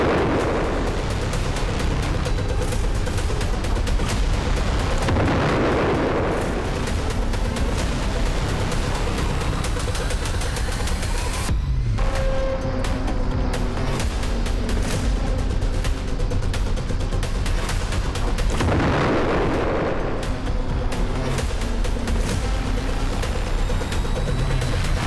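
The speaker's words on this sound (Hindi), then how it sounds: "आसमान में उड़ रहे B-1 लांसर बॉम्बर से दागा गया बम जैसे ही जमीन को चूमता है, एक के बाद एक कई जोरदार धमाके होते हैं।" Bombs dropped from a US B-1 Lancer bomber on Iranian missile sites go off in a string of heavy blasts: a loud, continuous rumbling roar with several swelling detonations and no voices.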